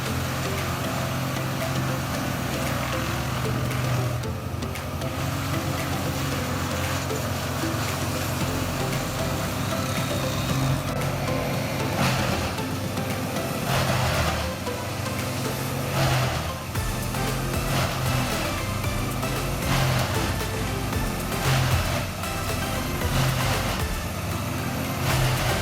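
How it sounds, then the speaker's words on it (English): A Morbark M20 wood chipper chipping branches and large logs runs with a steady, loud engine drone and grinding roar, broken by recurring bursts of harsher crunching as material feeds through. "The Moorbark M20 are efficiently chips branches and large logs into fine sawdust,"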